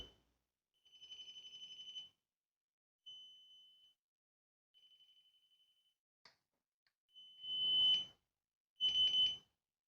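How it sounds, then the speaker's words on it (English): Electronic beeps from an airsoft Classic Army Nemesis M4 rifle switching fire modes to full auto: several short and longer high-pitched tones with brief gaps, the last two louder with a buzzy click, no talking. "It's going to beep. There you go. See, that's full auto now."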